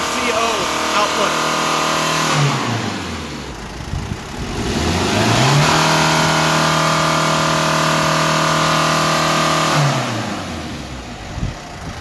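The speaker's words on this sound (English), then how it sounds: "Honestly, it's scary hearing this thing rev so high." High-mileage minivan with a 400,000 km engine revving hard during a German emissions inspection, tailpipe probe in place; the engine climbs to a sustained high rev, drops back to idle, then rises again and falls, loud and close.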